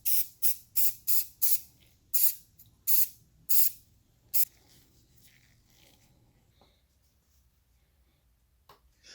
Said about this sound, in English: So now what I'm doing is adding some pink and purple spray paint